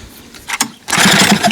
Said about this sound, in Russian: Вот, чихает карбюратор.